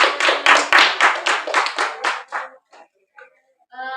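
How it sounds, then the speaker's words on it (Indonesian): A group claps hands together in a quick, lively burst of rapid claps that tapers off after a couple of seconds, with a few scattered voices following. "Tepuk tangan."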